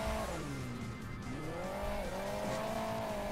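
Motorbike engine from the Hill Climb Racing 2 mobile racing game, a steady buzzing drone with rising and falling pitch sweeps as the throttle varies, loud and continuous throughout.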